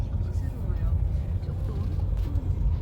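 Road traffic passes nearby as a steady low rumble of vehicle engines and tyres, continuous throughout with no distinct single pass-by standing out.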